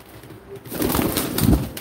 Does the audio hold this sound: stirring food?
no